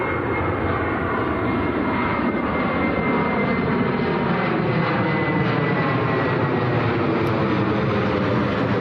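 A Jet2 airliner bound for Salzburg at Manchester Airport roars loudly and continuously with a broad, steady jet-engine rush on a rainy day, heard from nearby with no talk.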